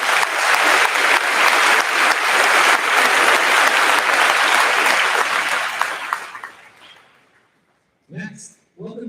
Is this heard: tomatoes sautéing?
no